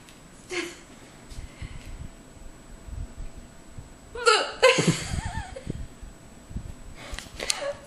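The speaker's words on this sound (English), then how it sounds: "Somebody has the hiccups." A person with hiccups makes a few sharp, gasping catches of breath, one early and a cluster midway, faint against a quiet room with other people speaking lightly around.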